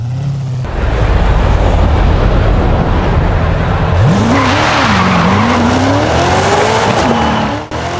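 Loud tire squeal from a Subaru doing a J-turn in the racing game Forza Horizon 5, a sustained skid under a roaring engine, with the pitch sweeping up and down for several seconds at close range.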